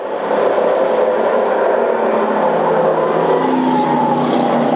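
Pack of six stock race cars roars down the front straight in a 1994 twin 75-lap feature at Duke, a loud continuous engine drone that swells and sustains as the train of cars passes close by.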